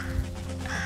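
Birds caw in the video game Röki, a short crow-like call over a steady game soundscape with low tones.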